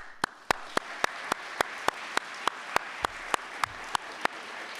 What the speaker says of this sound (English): we have to have one more round of applause, and we're going to have a lot for the finalists